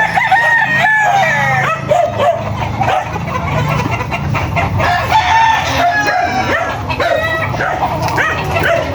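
Several Melsim Black gamefowl roosters crow one after another, loud and close, with clucking hens and repeated dog barks mixed in.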